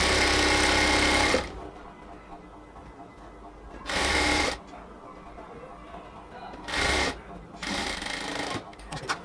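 A sewing machine stitches along a cotton kurti sleeve border in three or four short, loud bursts of rapid whirring, separated by quieter pauses of fabric handling.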